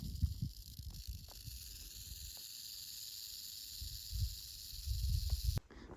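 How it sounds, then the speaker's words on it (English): A snake hissing on a desert hiking trail, a steady faint hiss over rustling and low handling noise, fairly close and continuous before cutting off. "Yeah, good looking snake."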